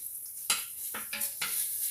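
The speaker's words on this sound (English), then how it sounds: "The bacon is cooking." Bacon frying in a pan, a soft crackling sizzle broken by a few short clinks and scrapes from utensils against the pan, quiet and close with no voices.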